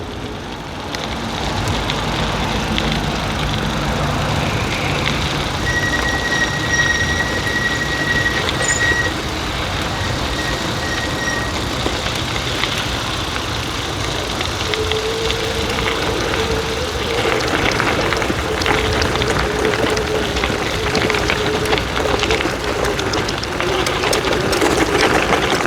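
A dual motor electric bike runs at half throttle while towing a deer trailer loaded with about 150 lbs of gear, a steady loud whine and road rumble with faint tonal squeals, with no talk.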